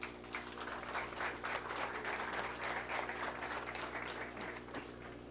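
Audience applause during a Haitian national police graduation ceremony, a sustained dense clapping wash over a steady low hum from the venue's sound system, faint and distant, lasting several seconds with no speech.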